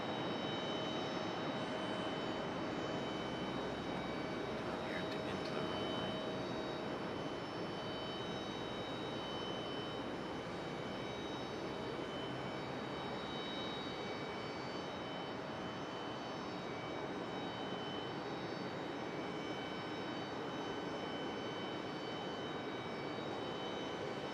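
A Frontier airliner at Raleigh-Durham International Airport, its engines a faint, steady distant roar that holds evenly throughout with no voices.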